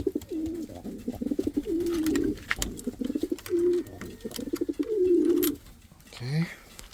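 Indian fantail pigeons in a breeding loft coo close by in repeated soft, throaty rolling phrases, with scattered rustles and clicks between them.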